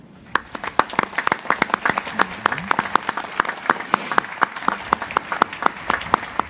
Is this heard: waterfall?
no